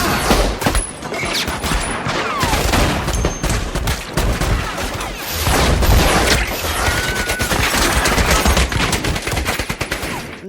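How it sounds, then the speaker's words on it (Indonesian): Gunfire in a war film scene: loud, dense bursts of rapid automatic shots and booming blasts, close and continuous with crashing impacts throughout. "Mendengar baku tembak terjadi"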